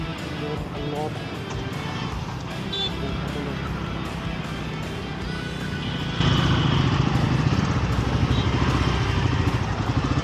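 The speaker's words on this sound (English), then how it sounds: "It is so exhilarating to ride this bike." Royal Enfield motorcycle ridden along a service road, a steady engine drone with rumbling wind and road noise, rising louder and rougher partway through as the throttle opens.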